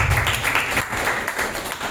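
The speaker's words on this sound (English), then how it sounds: "Let's give Lorraine a big round of applause" An audience at a corporate presentation-skills session claps in a short burst of applause, moderately loud and steady.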